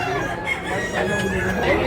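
A rooster crows at a busy chicken market in Tabunok, Talisay, Cebu, one drawn-out call rising over the clucks and murmur of the crowd.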